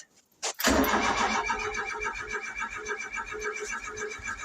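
Mk3 Ford Cortina Estate engine cranking with a short whine, then catching and firing into a loud, uneven, lumpy idle that keeps running close by.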